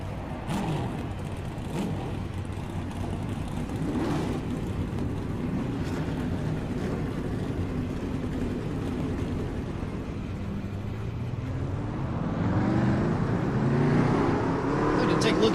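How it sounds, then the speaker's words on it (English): Race car engines in the iRacing video game at Daytona rumble as a low, steady mass, building louder and rising in pitch toward the end, with a voice talking over them. "Drivers, start your"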